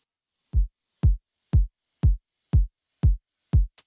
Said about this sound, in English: Just the hi-hat going in. And then a super aggressive sidechain from a kick.